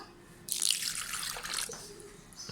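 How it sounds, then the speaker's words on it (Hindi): Water poured into a container for a lemonade drink with mint and lemon, a close, bright splashing stream starting abruptly and running about a second before tapering to a trickle, with no talk. "मैं लूँगी पहले पानी"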